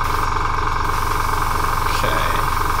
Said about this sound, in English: Sorry for the compressor noise.